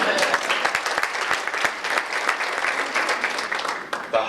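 Dense audience applause at a high school hall of fame induction dinner, sustained and fairly loud throughout, with no talk over it.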